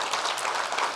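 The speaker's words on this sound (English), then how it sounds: "How about we start off with a big round of applause for this great panel?" A brief burst of audience applause for a panel at a conference on artificial intelligence in the public sector, a dense, even wash of clapping heard alone.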